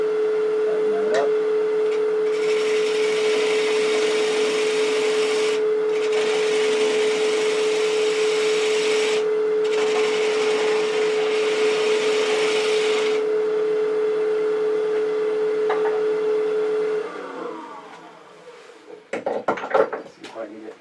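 A wood lathe runs with a steady tonal hum while a 1/2-inch spindle gouge cuts a bark-rim bowl in several long, rough scraping passes, then the machine winds down and stops near the end.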